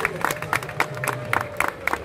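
Applause at the Chmielaki Krasnostawskie 2019 festival for a Norwegian representative, heard as rhythmic, sharp claps in regular bursts under a steady crowd murmur, moderately loud and fairly close.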